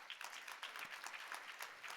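Audience applause at a World Food Day event on food as medicine, a steady wash of many hands clapping at moderate distance, continuous throughout without voices.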